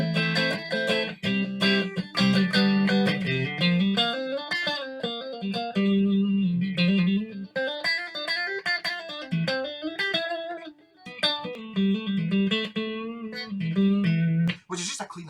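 A clean, sparkly electric guitar tone played through a Carlton high gain series 2 amplifier, ringing out in melodic phrases with sustained chords and bright picked notes, close and loud, alone without talk.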